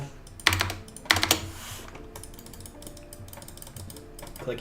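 Fast computer keyboard typing and mouse clicking during a software development session, in quick bursts of sharp clicks over a quiet background, fairly faint and close.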